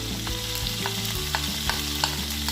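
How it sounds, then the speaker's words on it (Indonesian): Garlic and onion sizzle in a hot pan while being stirred, a close, steady frying crackle with a few soft scrapes of the utensil and no talk. "Tumis hingga harum ya pemirsa."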